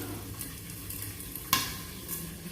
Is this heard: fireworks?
no